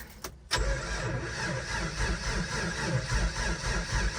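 Cold start attempt on an old vehicle engine after two pedal pumps: a brief cranking, then the engine catches and settles into a loud, rough, uneven idle close by.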